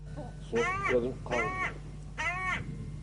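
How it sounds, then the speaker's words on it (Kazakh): A hooded crow perched on a pole in a house yard gives three loud, harsh caws, spaced about a second apart and heard close, over a faint steady hum. "сосын кәдімгі қарғаның дауысы қарқылдайды"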